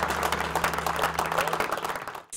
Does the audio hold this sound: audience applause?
yes